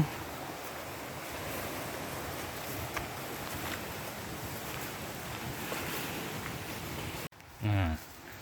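Pang Sawan waterfall in Uthai Thani, water flowing in a steady broadband rush that holds evenly for about seven seconds. A short break is followed by a brief louder bump near the end.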